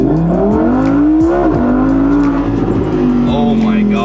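A car pulls hard away from a traffic light, its engine revving loudly and climbing through the gears with tire noise, close and continuous while people talk over it.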